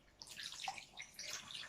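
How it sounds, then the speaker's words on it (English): Water dripping and trickling from a cloth wrung out by hand during a seaweed and aromatherapy facial ritual, a close, soft splashy patter lasting a moment with no voice. "Squeezing out excess water,"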